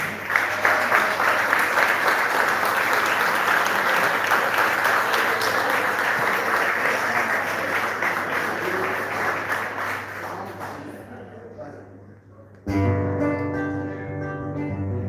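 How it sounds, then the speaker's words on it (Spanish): Sustained audience applause fills a live folk-music peña in Misiones, dense and steady for about eleven seconds before thinning out, then giving way abruptly to a sustained musical tone. "el aplauso que yo quiero es para ustedes"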